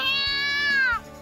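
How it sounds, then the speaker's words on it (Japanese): A cat's single drawn-out meow, close and clear, from a gathering of school cats in a game scene, falling in pitch at the end over faint background music. "なんだこの猫の群れは。"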